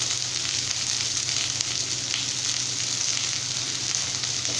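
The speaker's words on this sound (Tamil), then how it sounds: "இப்போ வெங்காயத்தை நல்லா வந்து வதக்கி விட்டுக்கலாம்." Small onions, about 150 grams, frying steadily in a pan of hot oil for a mixed kathamba chutney with mint, a continuous even sizzle close by with no talk.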